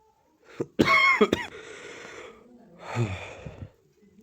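A burst of several harsh coughs up close, then a pause and a second, rougher bout of coughing and throat sounds.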